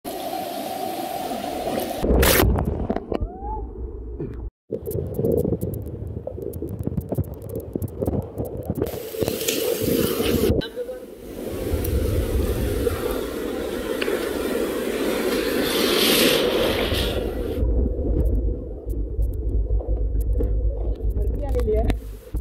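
Sea waves wash onto the beach at Murud Janjira on the Konkan coast, a steady broadband roar that surges and fades under talk, with wind buffeting in places.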